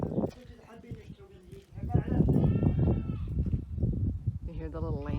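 Young lambs or goats bleat nearby a few times at a Bedouin camp near Aqaba, Jordan, high wavering cries, with people talking close by over and between them.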